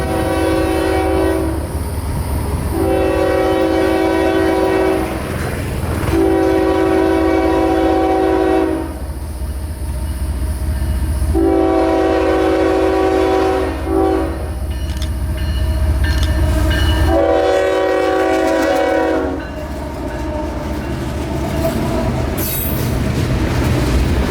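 A loud freight train of Tropicana reefer cars rumbles past close by on the Palmetto Subdivision, its horn blaring in several long blasts over heavy rolling wheel noise and clatter.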